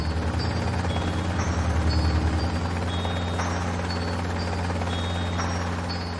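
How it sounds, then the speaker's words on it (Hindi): Helicopter flying in an animated cartoon, a steady low rotor drone with pulsing chop, loud and continuous, with scattered high whistling tones over it. "बाबा हेलीकॉप्टर उड़ाते हैं।"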